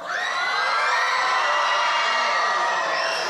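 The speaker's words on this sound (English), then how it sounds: "all the young people scream and make some noise" A crowd of young audience members at a gospel master class screams and cheers loudly and continuously, a dense wall of shrill whoops and yells that holds steady for a few seconds before easing slightly.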